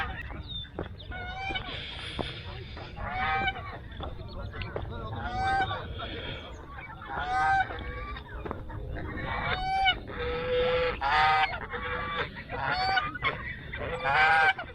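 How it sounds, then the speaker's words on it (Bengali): Geese on a pond at a wetland honk repeatedly in loud, nasal bursts, sometimes overlapping, over a low background rumble. Several calls come close together throughout. "পুকুরে রাজহাঁস আছে আর কি যেন চাইনিজ হাঁস ফাঁস আছে"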